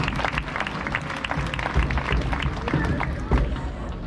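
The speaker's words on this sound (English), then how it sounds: "Let's give him a big round of applause." Audience applause at a parrot and bird show at a safari park, scattered claps with crowd murmur and some talk mixed in, moderately loud and fairly close over four seconds.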